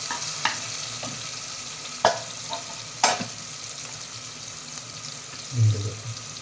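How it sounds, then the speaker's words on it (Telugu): Mutton goes into a hot pan and is stirred while frying, with a soft sizzle underneath scattered scraping clatters of the spoon and a low thud near the end. "మటన్ వేసుకుందామండి మనం."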